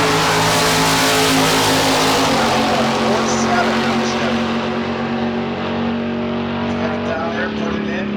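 A 1970 Chevrolet Nova drag car idles loudly with a lopey, rumbling engine at the drag strip starting line, joined by other loud engine noise and an announcer talking over the top throughout.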